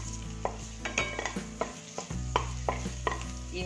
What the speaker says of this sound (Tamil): அதை வதக்கிடணும்.